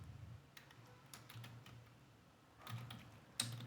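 Quiet typing on a computer keyboard as a command is entered in a terminal: scattered light key clicks, then a short quick run of taps and a sharper final keystroke, like pressing enter.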